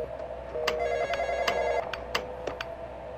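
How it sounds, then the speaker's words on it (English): A telephone rings inside the horror video game Intruder, with bright repeated bell trills pulsing at a steady rhythm over a low room hum, loud and close, with no talking. "go answer the phone"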